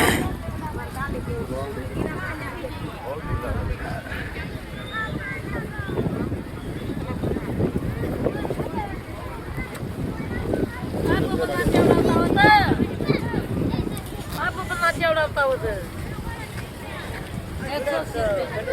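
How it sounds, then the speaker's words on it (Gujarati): Wind blows steadily outdoors as a continuous broadband rush with gusts and buffeting against the microphone, while people talk throughout. "કેટલો મસ્ત પવન છે"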